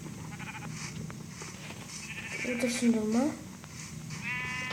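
A sheep in a video game gives a clear bleat in the middle of the clip, while a person talks casually before and around it.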